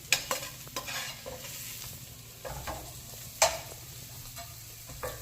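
Eggs fry in a little oil in a pan for a Telugu egg fry, a quiet steady sizzle broken by occasional scraping stirs and light clinks of the utensil.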